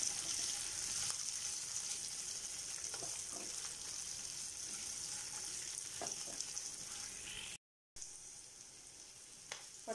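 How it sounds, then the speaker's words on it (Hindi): Cut boiled potato frying in a pan, a quiet steady sizzle with occasional light spoon taps, briefly cutting out before resuming. "अभी जो बॉयल पोटैटो कट के रखा था वो भी ऐड कर देती हूँ और 2 मिनट फ्राई कर लेती हूँ।"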